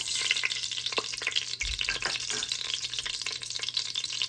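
Loud, steady sizzling of whole spices frying in hot oil for Punjabi yakhni pulao, with a few soft stirring scrapes, close up and without voices.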